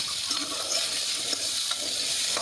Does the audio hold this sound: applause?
no